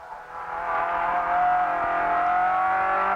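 Ford Escort rally car engine pulling hard under acceleration, a rising sustained whine held flat in a high gear, steady and fairly close with no talking.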